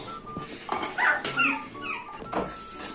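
A dog whimpers and whines in short, high, wavering cries, close by, with faint quiet gaps between the sounds.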